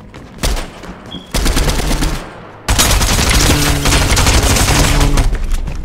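Fortnite gunfire with loud, dense bursts of shots that grow heavier and more continuous, running steadily through the latter half.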